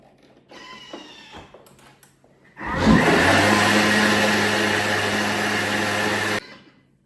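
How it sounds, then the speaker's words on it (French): A blender runs loud and steady for about four seconds, mixing a minced-meat filling for Armenian crêpes, after a few quieter kitchen clatters at the start. "Je vais mixer."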